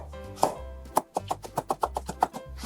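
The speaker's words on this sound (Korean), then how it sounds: "오이도 끝을 잘라내 주시고요. 적당히 드실 만큼 썰어주세요." A knife chops cucumber on a cutting board in a quick series of crisp, close taps, about a dozen in under three seconds, with a steady low hum underneath and no voices.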